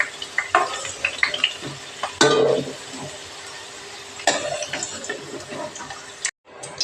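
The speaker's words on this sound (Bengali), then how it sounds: "লাল লাল করে ভেজে নেব আলুগুলোকে" Potato pieces fry in hot oil until reddish-brown, a continuous close sizzle broken by clinks and scrapes of a spatula stirring against the pan, with no one speaking.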